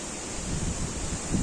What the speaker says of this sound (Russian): Но надеемся, что ветер как-то немножко стихнет